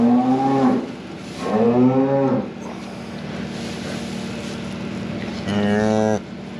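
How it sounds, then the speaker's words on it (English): A cow moos beside her newborn calf, giving three loud, drawn-out calls separated by pauses, over a constant low engine hum in the background. "Got a calf here, just born."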